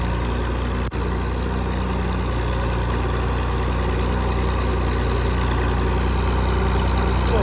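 Tiller tractor engine labouring up a steep, slick muddy dirt track, a loud, steady low-pitched drone that runs throughout with only a brief dip near the start.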